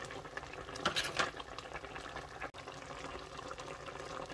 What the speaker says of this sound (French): Je déplace d'abord les crabes.